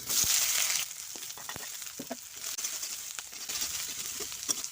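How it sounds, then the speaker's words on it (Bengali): Chopped onion and green chilli sizzle steadily in hot oil in a wok, loudest at first, with occasional light scrapes and taps of stirring. "কড়াইতে তেল গরম হয়ে গিয়েছে কেটে রাখা পেঁয়াজ আর লঙ্কা আমি ফোড়নে দেব"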